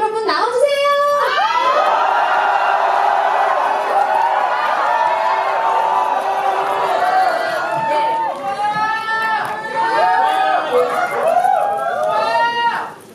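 A large crowd of fans at a K-pop showcase screams and cheers loudly as the group DIA appears on stage, a sustained roar of high-pitched shrieks that swells and holds before dropping off suddenly at the end.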